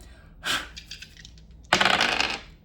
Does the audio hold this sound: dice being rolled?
yes